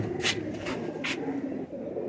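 A pigeon, at least fourteen years old, gives two soft coos close by against a quiet background.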